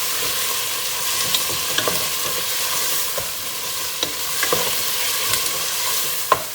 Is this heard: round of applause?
no